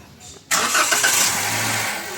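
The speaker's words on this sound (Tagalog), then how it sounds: "pwede ko na ngayon pa-start itong makina" A Toyota Avanza engine with a noise fault cranks and catches at once, then runs steadily at a loud, close idle with a slight rise in revs.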